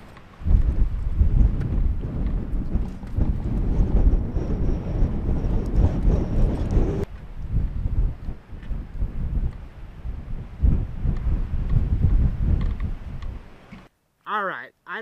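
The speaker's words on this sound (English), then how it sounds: "and it is windy" Strong wind at a hilltop on the Doll Baby Trail near Payson, Arizona buffets the microphone in loud, continuous gusts with a roaring low rumble, easing only briefly near the end.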